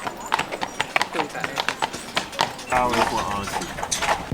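Hooves of a horse pulling a carriage near Neuschwanstein Castle clip-clop in a steady, fairly close rhythm, with people talking over the clopping.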